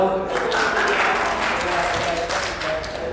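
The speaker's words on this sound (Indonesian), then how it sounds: "Tepuk tangan dong." Applause from a training-session audience, a sustained mix of many clapping hands with murmuring voices under it, fairly loud and close throughout.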